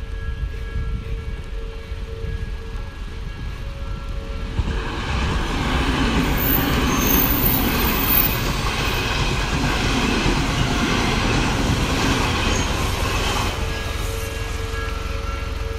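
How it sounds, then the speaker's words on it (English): A Japanese sightseeing train rumbles and clatters steadily up close, its noise swelling after a few seconds into a loud, continuous roar with no voices. "Sabang Choo Choo train."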